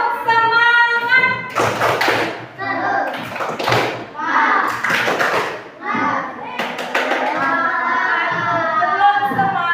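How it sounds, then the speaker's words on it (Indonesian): Schoolchildren in a STEM classroom perform the tepuk semangat spirit clap, a string of close, patterned hand-clap bursts broken by children's voices and a teacher speaking. "Tepuk semangat."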